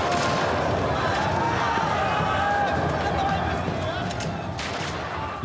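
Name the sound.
gunfire sound effect at a street demonstration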